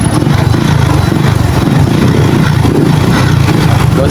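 A Honda CT125 motorcycle engine running after a repair, a steady close mid-pitched engine drone that holds even throughout with no talk over it.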